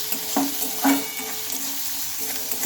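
Chopped onion for a carrot dish fries in a pan and gets stirred, giving a soft, steady sizzle with a couple of distinct scrapes near the start.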